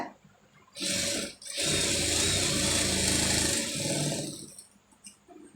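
A sewing machine stitching a sleeve joint runs in two close bursts, a short whir, a brief pause, then a longer steady hum before stopping, with faint handling noises around it.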